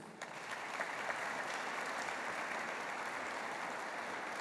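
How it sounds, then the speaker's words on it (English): A concert audience claps in sustained applause that stays even throughout, heard from within the hall and fairly distant, with no voices over it. "Once again, another round of applause, please."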